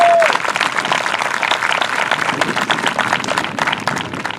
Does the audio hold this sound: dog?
no